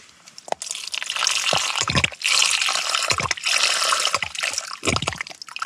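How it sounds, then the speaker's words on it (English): Water poured into a Sea to Summit mug while backpacking, a continuous gurgling stream broken by sloshes and drips, close to the mic. "always fill your cup"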